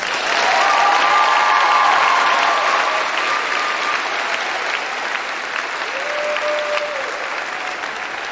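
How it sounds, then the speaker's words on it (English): Graduation ceremony audience gives a big round of applause, loud sustained clapping from a crowd that slowly eases off, with brief faint tones audible over it. "Can we give her a huge round of applause?"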